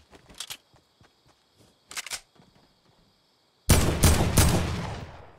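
Gunfire in a shooter video game: two short bursts of shots, then a louder sustained burst of rapid fire that trails off, with quiet gaps between the early bursts and no talking.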